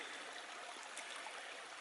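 A small brook near its source on a hillside near East Dean, at the Forest of Dean's edge, flows with a steady, close, soft rushing trickle and no voices.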